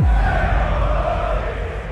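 A cricket crowd at Lord's roars during a Test match, a loud, dense swell of voices that opens with a deep thump and stays full throughout.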